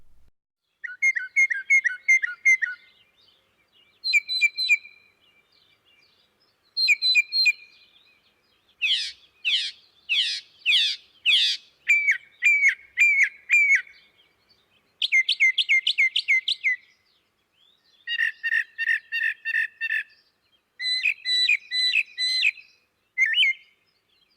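A mockingbird sings alone in clear bursts, switching between many different whistled and chirped phrases with short pauses, imitating the songs of other birds.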